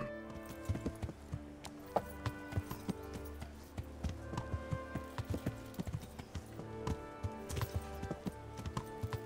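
Steady hoof clip-clops from a horse in the video game Kingdom Come: Deliverance, repeating in an uneven trotting rhythm over a low hum and soft background music.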